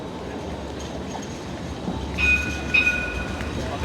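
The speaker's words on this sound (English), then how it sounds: "There's that Chinese Lunar New Year tram, specially painted tram." A specially painted Chinese Lunar New Year tram rolls past on a Sydney city street with a low rumble. Two thin, high wheel squeals rise out of the steady background noise.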